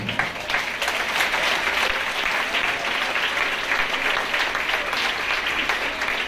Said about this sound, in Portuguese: As palmas no nome do Senhor.